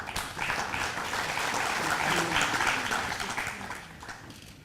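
A seated audience at a panel discussion on phasing out nuclear power claps to welcome a speaker, a sustained wash of many hands that swells in the middle and then tapers off.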